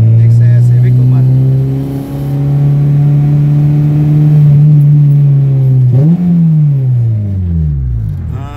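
A Honda Civic EG with a K20A2 engine swap drives by close and loud, its engine droning steadily, dipping briefly in pitch, then winding down as it slows at the end.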